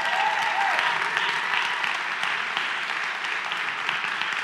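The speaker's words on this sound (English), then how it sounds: "Give yourselves a round of applause for that one, right?" Audience applause in a large hall during a motivational talk on being present, steady and dense clapping throughout, with a faint voice briefly heard under it.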